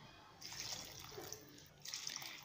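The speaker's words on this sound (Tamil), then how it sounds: "இது கூட 3 கப் தண்ணி சேர்த்துக்கோங்க." Water is poured into a pan of vegetable kurma, a faint splashing pour in two bursts, quiet and close.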